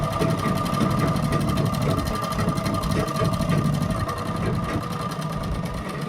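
A sewing machine stitches fabric for a kurti neckline set on buckram, running in a steady, continuous mechanical whir with a rapid needle rhythm, close and even throughout with no talking.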